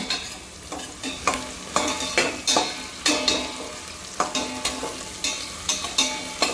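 Chopped onion browning in a pan for Malvani raw jackfruit bhaji crackles with a steady sizzle while a spoon scrapes and stirs in regular strokes, close and fairly loud, with no talk.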